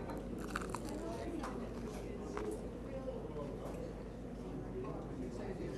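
Crisp crunching bites into homemade artisanal bread, close and fairly loud over a steady murmur of background voices.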